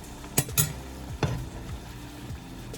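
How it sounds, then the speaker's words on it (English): Utensil scraping and stirring through onion sauce mixed with chili garlic sauce in a pan, a few sharp clinks over a soft sizzle, close up and without talk. "I'm gonna stir that all in together"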